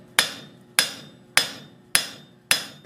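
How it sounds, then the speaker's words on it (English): Five evenly spaced full-face hammer blows ring out on hot steel while forging a flux spoon on an anvil, each a sharp bright strike with a short metallic decay, about half a second apart. "use full face hammer blows"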